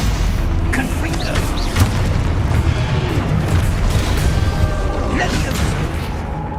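Spell explosions in the video game Hogwarts Legacy during a fast combat sequence: dense, repeated booms and blasts follow one another almost nonstop, loud and close throughout, with voices present in the mix.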